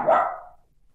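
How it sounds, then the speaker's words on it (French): A dog gives a single close, loud bark that quickly fades into silence. "« D'accord, dit-il à Jim, dans son langage de chien, en aboyant deux fois. »"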